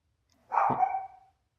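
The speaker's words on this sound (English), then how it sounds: "my dog is having conversation with somebody on the outside" A single dog bark from outside, one short sharp bow-wow with a brief trailing tail, moderately loud against an otherwise quiet room.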